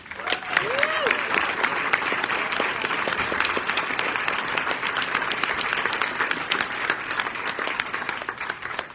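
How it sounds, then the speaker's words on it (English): Audience at a community organization's annual meeting giving staff a warm round of applause, dense sustained clapping with a brief whoop near the start and faint voices mixed in. "I would ask for a round of applause for them"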